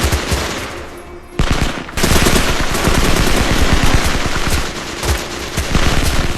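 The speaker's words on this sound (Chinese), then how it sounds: "继续对着还有气息的同胞狂暴开火" Sustained machine-gun fire from a war film massacre scene, loud dense rapid bursts rattling almost without pause after a short lull, with no talk over it.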